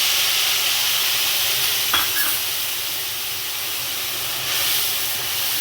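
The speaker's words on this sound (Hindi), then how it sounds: "अब जो मसाला मैंने घोल के रखा है वो मसाले को डाल दूँगी" A dissolved spice mixture goes into a hot pan of Rajasthani ker sangri sabzi with green chillies and sets off a steady, fairly loud sizzling hiss, with a brief splash of stirring near the middle.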